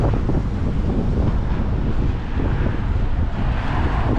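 Steady wind buffeting the microphone outdoors, a loud continuous low rumble with gusty fluctuations and no voices.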